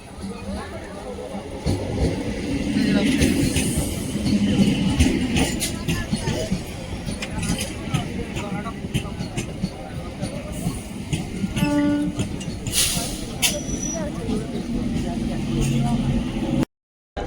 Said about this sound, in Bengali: আমরা ট্রেনে উঠে গেছি, ট্রেনও ছেড়ে দিয়েছি।